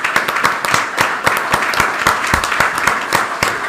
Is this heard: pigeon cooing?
no